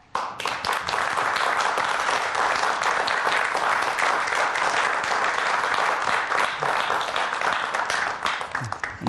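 A studio audience breaks into sustained applause, loud and dense, welcoming a professor onto a science lecture stage, the clapping steady throughout with no talk over it.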